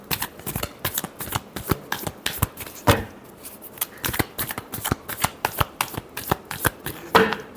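Tarot cards are shuffled by hand in quick riffling bursts, close and crisp, with brief pauses between runs of rapid flicks.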